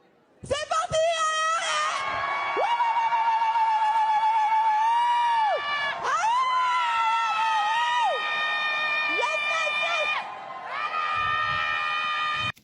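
A political rally crowd in France shouts, screams and wails in loud sustained bursts of high-pitched, drawn-out cries, rising and falling in waves with brief dips between, close and dense throughout.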